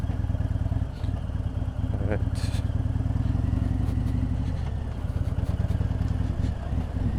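Steady, loud rumble of a Harley-Davidson Low Rider ST motorcycle engine while riding along a city street, droning continuously from close range with faint road noise.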